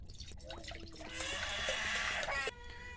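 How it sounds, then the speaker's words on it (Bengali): Water poured into a kadai for boiling peas, a faint close splashing pour that swells and stops abruptly, preceded by light drips. "আমি কড়াইতে দিয়ে দেবো জল,"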